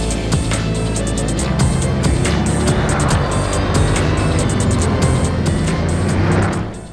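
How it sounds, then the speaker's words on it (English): A 1200-horsepower carbon-fibre Bugatti Veyron Grand Sport Vitesse roadster drives hard, its engine holding a loud steady roar with rhythmic higher clicks or whines over it before easing off at the very end. "The 1200 horsepower, carbon-fibered Bugatti Veyron Grand Sport Vitesse."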